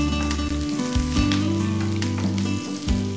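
Green chilli pieces and curry leaves sizzle steadily in hot oil in a pan, a continuous close frying hiss with small crackles and a low tonal hum underneath.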